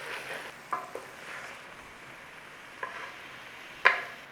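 Tomato puree cooks in a pan under a soft, steady simmering hiss, with a few sharp taps and scrapes from a utensil stirring it.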